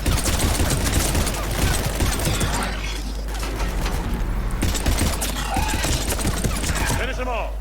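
Sustained automatic gunfire in the video game Mass Effect 3, a dense rattling fusillade with mechanical clatter that eases midway and then returns, with voices heard over the battle.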